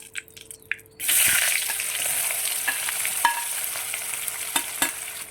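Onions go into hot oil with spices such as cumin powder after a few quiet clicks, setting off a sudden loud sizzle that settles into steady frying with occasional sharp pops and stirring taps.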